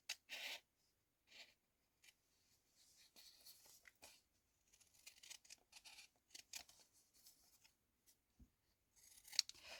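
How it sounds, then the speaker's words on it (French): Wavy-bladed pinking scissors snip and slide through paper in short, quiet bursts with pauses between cuts, close by and otherwise near silent. "je vais utiliser les ciseaux crantés, mais avec voilà, une lame ondulée"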